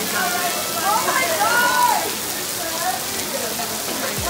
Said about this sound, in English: It's just raining.